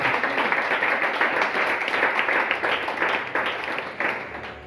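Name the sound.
congregation applauding in church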